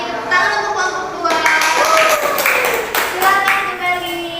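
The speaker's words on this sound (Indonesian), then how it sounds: "Tepuk tangan untuk kelompok 2" Schoolchildren in a classroom clap together for group 2, a brief burst of close, uneven hand claps heard over children's voices and talking.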